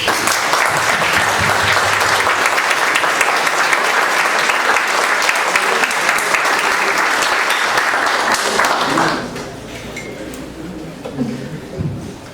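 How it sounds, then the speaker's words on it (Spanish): Applause fills a university book presentation on the Middle East and Maghreb at the Benemérita Universidad Autónoma de Puebla, dense and steady for about nine seconds before fading into quieter room murmur and scattered noise. "vamos a darles un aplauso"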